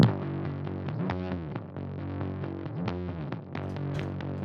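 Bass guitar through distortion, saturation and a stomp compressor plays a steady, thick, buzzy line of sustained notes with a few sliding pitch bends, continuous and alone without any voices.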